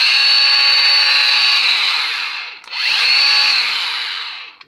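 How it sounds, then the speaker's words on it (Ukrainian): A Bosch GWS 18-125 V-LI Professional cordless angle grinder runs at a high, steady whine, spins down briefly, then spools back up to full speed, loud and close with no voices. "Давайте включимо, подивимося, як вона працює."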